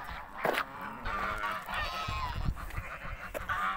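Geese honk in a garden in short, close calls that come several times in a row against faint background noise.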